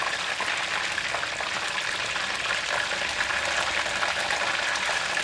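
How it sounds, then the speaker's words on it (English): Chicken pieces fry in hot oil for super crispy fried chicken, giving a loud, dense, continuous sizzle with fine bubbling crackle throughout and no talking. "Turn the chicken and cook it for another 7 minutes."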